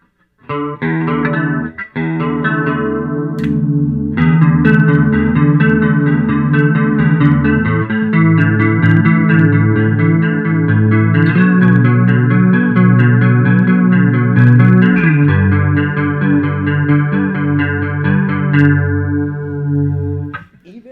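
Electric guitar with a chorus effect, played through a Mark Bass CMB 150 Black Line bass amp: layered sustained chords and melodic notes ring out loud and shimmering for about twenty seconds, with no talking.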